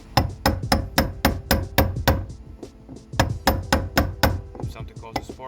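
Hammer tapping on a Honda Pilot (2001–2008) during a fuel pump replacement: sharp, evenly spaced metallic knocks in two quick bursts separated by a brief pause, close and loud.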